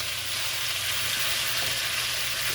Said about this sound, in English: I like to brown my oxtail